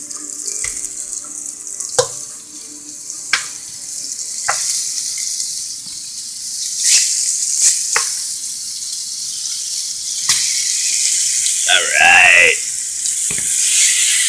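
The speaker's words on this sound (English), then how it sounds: "Okay, now that our garlic is starting to brown a little bit, I'd say it is time to add our lamb." Lamb pieces hit a hot pan of browning garlic and sizzle steadily, with sharp clicks and clatters of utensils and a brief squeak, while a voice speaks once.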